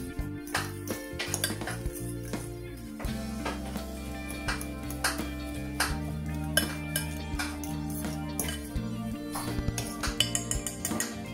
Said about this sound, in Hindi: स्पून लेके ना मैं इसको प्रॉपर मिक्स करूँगी ताकि ये डिज़ोल्व हो जाए